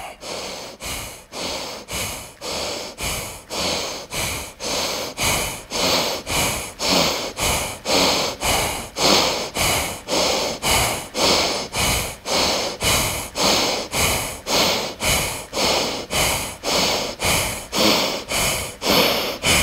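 Deep, forceful belly breaths held in the Navasana boat pose, a steady rapid rhythm of loud close inhales and exhales repeating about twice per second without pause, with no talking.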